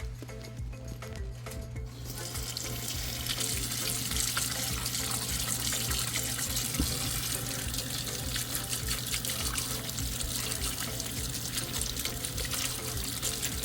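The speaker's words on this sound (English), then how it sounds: "I'm going to take it over to the sink and wash them." Cherry tomatoes in a strainer are rinsed under a kitchen sink tap: running water starts after a brief pause, then pours steadily and close, splashing over the fruit.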